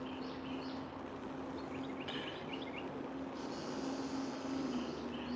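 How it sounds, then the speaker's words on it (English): Birds sing outdoors, their short, bright chirps scattered faintly over a steady low hum and background noise. "the birds be by singing louder than I do"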